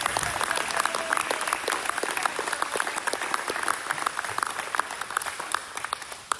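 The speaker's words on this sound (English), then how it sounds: "give her a round of applause" Steady audience applause at a school board meeting, many hands clapping densely and evenly at moderate loudness for several seconds, with a few faint voices underneath.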